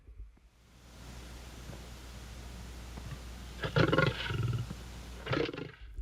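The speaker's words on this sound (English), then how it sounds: "It sounds very real, so I'm curious how they got the sound, if they recorded an actual lion" A lion's roar in a 1961 Twilight Zone jungle episode: low rumbling bursts rise twice over a hissing, rain-like background, the second shorter than the first, with no talk.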